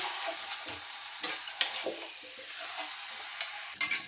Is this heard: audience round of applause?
no